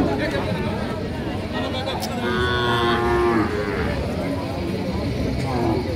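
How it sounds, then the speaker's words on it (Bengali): Cows lowing at a busy cattle market in the hill country of Sakhipur, Tangail, where milking cows and calves are being sold; several drawn-out moos rise over a constant crowd babble and nearby chatter. "এই পাশে অনেক গাভী গরু রয়েছে।"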